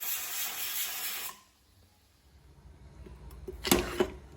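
A pressure cooker with mutton inside vents steam in a loud, steady hiss that cuts off abruptly, followed by quieter kitchen sounds and a short second burst.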